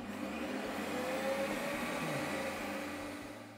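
A Ninja Creami machine re-spins blueberry ice cream, a steady loud motorized whir and grinding drone that holds throughout and eases slightly at the end.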